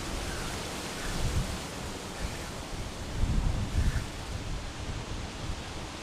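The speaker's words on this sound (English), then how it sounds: "It's a bit windy today as well." Steady wind blowing past outdoors, with low rumbling gusts buffeting the microphone, swelling around the middle before easing off.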